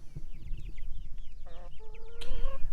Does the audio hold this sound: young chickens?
yes